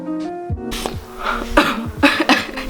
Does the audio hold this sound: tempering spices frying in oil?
no